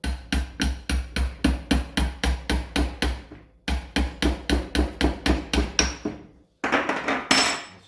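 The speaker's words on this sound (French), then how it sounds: "Gentiment avec le marteau, pas comme une brute, gentiment." A hammer gently taps a pin into an Alboran FX 2020 stepper, two long runs of rapid, even metallic taps close to the listener, followed by a few louder, brighter strikes.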